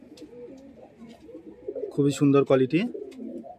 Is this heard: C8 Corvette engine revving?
no